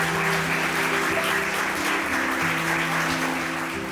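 Sustained audience applause at a Nurses Day event, steady and dense throughout with faint tonal background music underneath.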